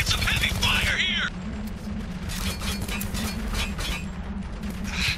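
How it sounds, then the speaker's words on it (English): Heavy gunfire in the war shooter game Spec Ops: The Line, bursts of shots crackling over a constant low rumble of battle, with a voice shouting briefly at the start. "We're taking some heavy fire here!"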